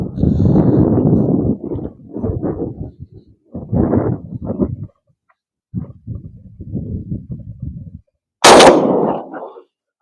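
A Breda Echo shotgun fires a single sharp, loud slug shot at a target 40 meters away near the end, after a stretch of people talking.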